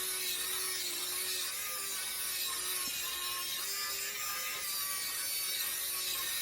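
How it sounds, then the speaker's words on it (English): A hand drill bores slowly into wood while track turnouts go in on a model railway layout, giving a steady, continuous grinding and ratcheting rasp at close range with no talk over it. "it's a pain in the butt drilling with this drill."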